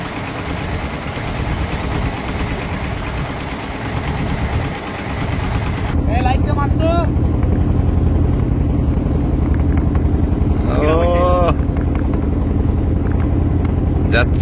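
A fishing trawler's engine runs steadily near the Dubla Char coast of the Sundarbans, a dense continuous rumble with brief voices or tonal sounds rising above it midway.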